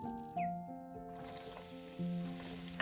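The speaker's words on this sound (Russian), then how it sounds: "Отправляем лук в горячее масло и обжариваем 3-5 минут на среднем огне." Sliced red and white onion sizzling in hot vegetable oil in a frying pan over medium heat, a steady close crackle with brief clinks of a utensil, no voices.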